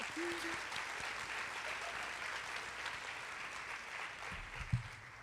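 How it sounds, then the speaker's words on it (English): Steady applause from an audience at a school district convocation, filling the clip at a moderate, fairly distant level before tapering slightly near the end. "That is worthy of applause."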